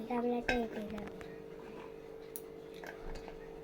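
A large metal mixing bowl being handled in a home kitchen while cauliflower curry is made, giving a clanking knock and ringing metallic tones at the start that fade out, with faint voices nearby.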